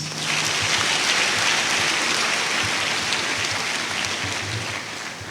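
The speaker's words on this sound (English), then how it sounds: "May we please give the special guest of honor another resounding applause." Sustained applause from a large audience at a Nigerian Defence Academy cadet commissioning ceremony, a steady dense wash of many hands that holds evenly throughout and eases slightly at the end.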